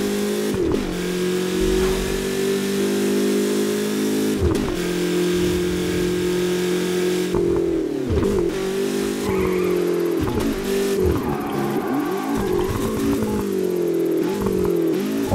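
The Hunter Manhattan car from the video game Burnout Paradise drives with a steady, loud engine drone, rising and falling with repeated revs and gear shifts and no talking throughout.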